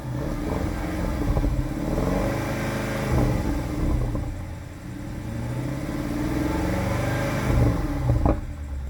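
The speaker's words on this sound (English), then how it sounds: "the sound of that twin turbo V8. Take a listen." Deep rumble of a twin-turbo V8 in a 2017 BMW X5 xDrive 50i SUV, revving and pulling steadily with rising surges near the end, close and loud throughout with no talk.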